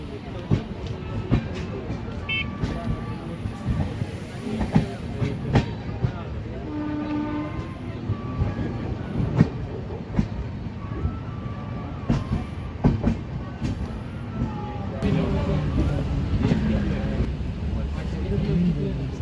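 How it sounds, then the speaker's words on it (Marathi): The Harangul–Pune Express (01488) runs on after leaving Kedgaon, with a steady wheel rumble and rhythmic clatter throughout, a horn sounding at intervals, and voices talking in the carriage underneath. "8:14 केडगाववरून आपली ट्रेन निघालेली आहे"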